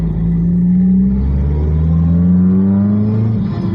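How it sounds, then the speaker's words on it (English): A supercharged Zetec engine in a 2004 Ford Focus revs loudly and up close. Its steady, rising tone climbs through the revs, then eases off briefly near the end. "It blows my mind how rev happy the Z-Tech is and how well it takes the turbo."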